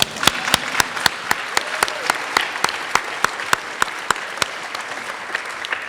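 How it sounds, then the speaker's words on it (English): Audience applause at a Seattle town hall event on teaching, with a dense roll of many hands clapping steadily and strong, regular individual claps standing out near the microphone throughout. "let's give him a round of applause"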